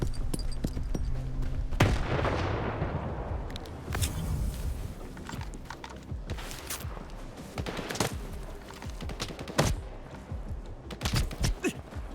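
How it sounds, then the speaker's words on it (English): A grenade blast in a shooter video game, a heavy boom near the start with the rumble trailing off, then scattered gunfire cracks and thuds continuing through a busy combat mix. "That's a grenade."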